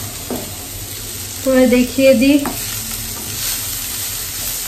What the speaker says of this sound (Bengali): এখানে হচ্ছে শাক ভাজা, এই যে মোটামুটি হয়ে গেছে